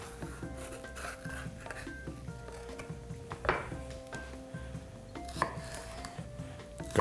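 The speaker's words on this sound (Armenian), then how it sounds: "Կտրատում ենք փոքր խորանարդիկների։" A knife chops red sweet pepper into small cubes on a board, giving steady, quick close taps with a few sharper knocks and faint background hum.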